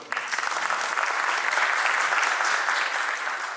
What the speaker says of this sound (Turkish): Evet, bir alkışlayalım o zaman.